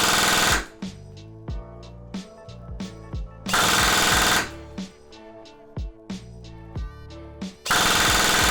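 A G&G MXC9 airsoft rifle fires at a shooting range: bursts of rapid full-auto shots alternate with single spaced semi-auto shots, sharp and close, with short quiet gaps between strings.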